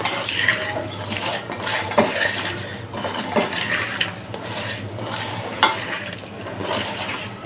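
Potatoes, onion and garlic are mixed with spices in a metal pot, giving repeated scrapes and clinks of a utensil against the pot at a moderate level, with no talk.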